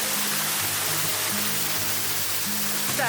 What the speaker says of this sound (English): I'm by waterfall.